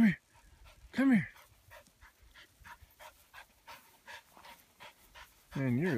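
A dog pants rapidly after running up a field in Lincoln National Forest, close and rhythmic, with whiny vocal sounds at the start and end and a person speaking.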